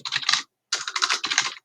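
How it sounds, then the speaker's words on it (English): Typing on a computer keyboard, two bursts of rapid, close clicking keystrokes separated by a short pause, heard alone. "Typing seems to be mine today."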